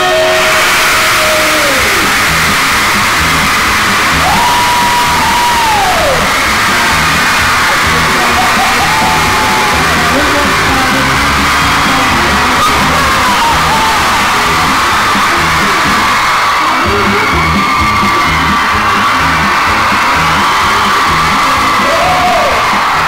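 A live show crowd screams and cheers loudly and continuously, shrill whoops and yells rising over a dense roar that swells for over twenty seconds.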